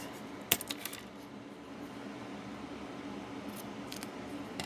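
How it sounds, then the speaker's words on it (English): Scissors snip through tape while it is wrapped around an extended grabber tool: one sharp, close snip followed by a few faint clicks, then only quiet room noise. "you might have to use your scissors to trim the tape"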